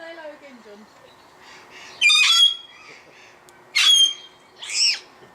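A bird squawks and calls in loud, harsh bursts, mimicking the word hello, three sharp calls standing out over faint background chatter and a low voice at the start.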